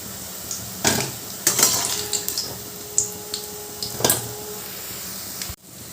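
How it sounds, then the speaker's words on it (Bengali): Vegetable koftas fry in oil while a metal utensil scrapes and clinks against the pan to lift them out, a few distinct knocks over a soft bubbling hiss, close by and without speech. "এবার আমি বাকি কোপ্তাগুলো একই রকমভাবে ভেজে নেবো"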